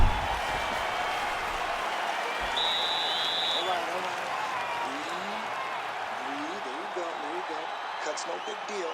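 A crowd roars and applauds steadily in EA Sports UFC 6 during a Matt Hughes vs Gilbert Burns fight, a dense, sustained wash of arena noise with talking heard through it.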